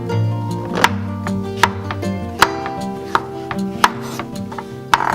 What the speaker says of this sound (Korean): 저는 그냥 먹기 좋은 크기로 썰게요